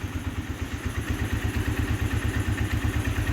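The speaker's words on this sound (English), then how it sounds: "She's running. Man, she sounds good too. The motor sounds great." A Chinese four-wheeler engine running steadily nearby, with a fast, even low thumping pulse and some mechanical clatter on top, no talk.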